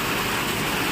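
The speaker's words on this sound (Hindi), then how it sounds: "यह इनकी नाली से देखो कितनी ज़ोर से पानी निकले जा रहा है यहाँ से ऊपर से" Rainwater gushes hard out of a hostel drain at an engineering college in Ghurdauri, a loud, steady rushing and splashing wash that fills the whole short moment with no voices.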